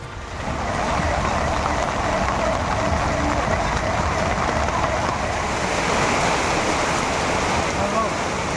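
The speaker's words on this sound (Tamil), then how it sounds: "வேலூர் மாவட்டம் குடியாத்தத்தில் சுமார் 1 மணி நேரம் பெய்த கனமழை" Heavy rain pouring in Gudiyatham, Vellore district, a loud, unbroken roaring wash of water that holds steady from start to finish with no voices over it.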